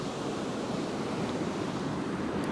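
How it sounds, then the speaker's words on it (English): Ocean surf breaks and churns along a beach with turbulent waves offshore, a continuous soft wash of noise without distinct individual crashes, heard alone at moderate distance. "you can see out the back there's lots of waves and lots of turbulence"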